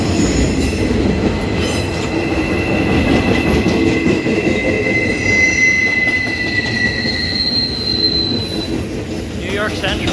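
A CSX Q372 freight train led by two EMD locomotives, hauling maintenance-of-way equipment, rolls past close by with loud, continuous metallic wheel squeal and rumbling cars, faint clicking of rail joints underneath.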